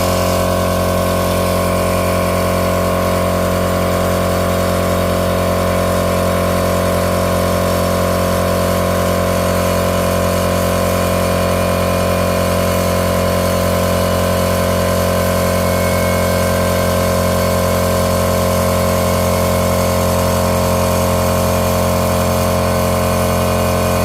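Small air compressor running and pumping up to 120 psi, a loud, constant droning motor hum with steady mechanical tones throughout, no talk.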